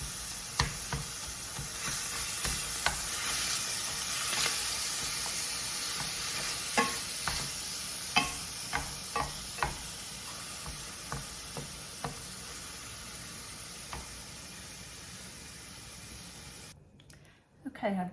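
Ground beef frying in a pan while a plastic meat chopper breaks it up, a constant sizzle with repeated sharp scraping knocks at an irregular rhythm, fading out toward the end.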